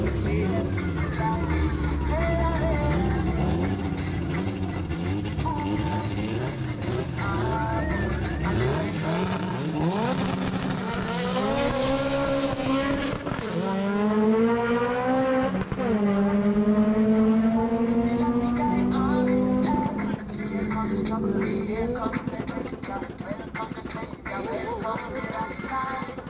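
Drag race cars, a nitrous Honda B-series against a turbocharged K-series, scream through rising gear-by-gear engine pulls. The loud, sustained revving climbs and drops repeatedly as the cars launch and shift, with background crowd noise and talk underneath.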